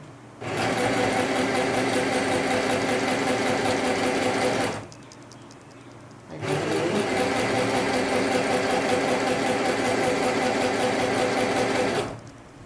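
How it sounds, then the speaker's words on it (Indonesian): A sewing machine stitching fabric for short pants runs in two long, steady bursts of fast mechanical whirring and needle chatter, separated by a short pause and stopping near the end, close and loud with no talk. "Nih ya, kita jahit."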